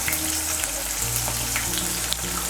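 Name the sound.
ginger paste and tomato frying in a pan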